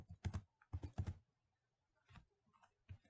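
Quick bursts of computer keyboard typing: two fast clusters of keystrokes, then a pause and a few lighter scattered taps, close and clear in an otherwise quiet room.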